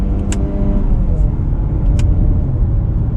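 Engine of a 2020 Mazda CX-30 with a six-speed automatic in manual mode, running steadily through quick upshifts, a continuous close-up drone with faint ticks above it.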